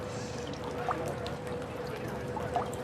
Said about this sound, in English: that water cascades down over these terracotta pots